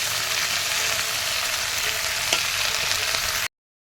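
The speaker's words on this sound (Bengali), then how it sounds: "দিয়ে এটাকে ভাজা ভাজা করবো।" Onions, potatoes and flat beans fry together in oil, a loud, unbroken close sizzle with a faint utensil knock midway, ending abruptly in silence.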